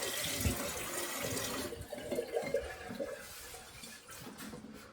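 Water rushes through an open toilet fill valve being flushed of debris under a cup, a steady hissing gush that is loud at first, then eases into a softer flowing spray.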